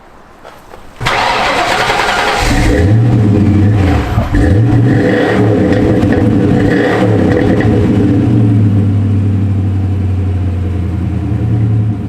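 A drift car's engine cranks and catches, then idles loudly nearby with repeated throttle blips that rise and fall before it settles into a steady rumbling idle.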